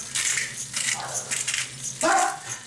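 A dog barks and whimpers a few times in a home kitchen, short bursts with pauses between them at moderate distance, the last bark sharper and louder.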